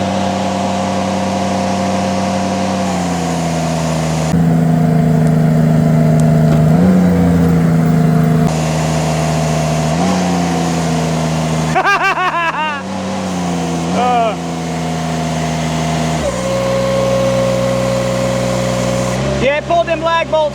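The Derette V1000 Chinese mini skid steer's engine running at full RPM, a loud, steady droning roar with shifting pitch, gear and hydraulic strain sounds, and people talking over it.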